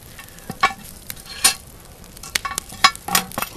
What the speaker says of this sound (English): we're gonna stir it around